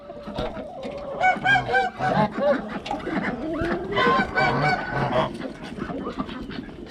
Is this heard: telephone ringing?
no